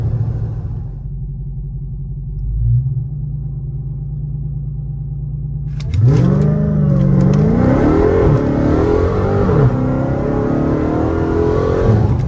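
A Dodge Charger Hellcat Redeye idles with a deep rumble, then launches hard in a 0-60 run, the engine roaring and revving up through rising, shifting pitches, loud and close.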